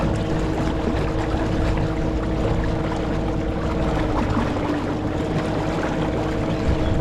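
A small motorboat runs steadily on open water during a fishing outing, its outboard engine a close, constant drone mixed with hull and water wash, with no talking.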